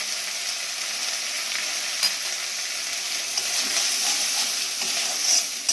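Chopped tomato and green chili fry in a pan for a Bengali veg dal, giving a steady, even sizzling hiss with small crackles throughout and no voices.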